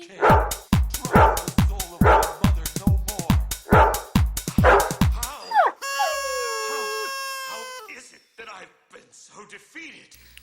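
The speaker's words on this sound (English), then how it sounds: "Dog" Dogs in Castlevania: Symphony of the Night bark in a rapid run of loud, sharp barks for about five seconds, then a rising synthesized game tone and scattered effects follow, with no talk over it.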